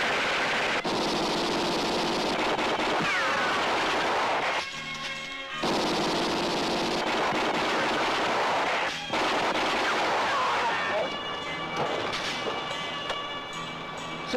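Heavy gunfire in a Filipino action movie shootout, loud bursts and sustained volleys filling most of the scene, broken by brief lulls, with no voices heard.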